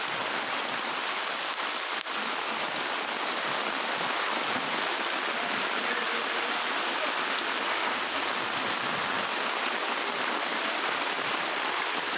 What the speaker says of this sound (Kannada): ರಾತ್ರಿ ಇಡೀ ಮಳೆಗೆ ಜಲಾವೃತಗೊಂಡಿದೆ ಹುಬ್ಬಳ್ಳಿ